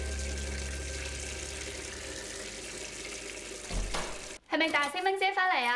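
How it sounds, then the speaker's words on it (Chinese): Water runs steadily from a kitchen tap that seems faulty, a continuous broadband wash filling the first few seconds before it cuts off; a voice then speaks close by. "呢个水龙头好似坏坏地喎"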